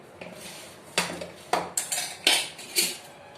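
Dishes and cutlery clatter in a home kitchen as food is served, with several distinct clinks and knocks of metal utensils against plates and pots coming in an uneven run, fairly close, with no talking.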